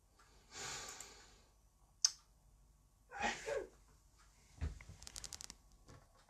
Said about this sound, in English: bless you to my wife if you heard her sneezing in the background